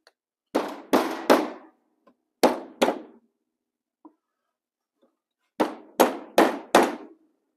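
Sharp metallic hammer blows ring out against a Suzuki TS185 engine crankcase being split apart, falling in two quick bursts of three to four strikes with a pause between them.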